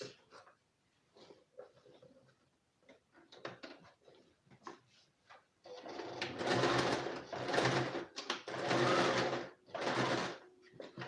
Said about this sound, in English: I'll just stitch it down.